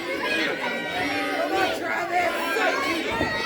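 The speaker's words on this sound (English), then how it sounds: "This crowd really rallying for Dewey" A wrestling crowd at a PowerSlam show cheers, shouts and rallies, a dense, loud roar of many voices that swells and falls throughout.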